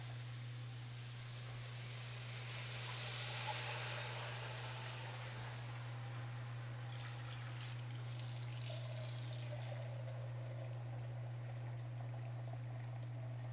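Water and cider are poured into a pot of braising pork, giving a soft, steady trickling hiss that stays faint throughout over a low background hum.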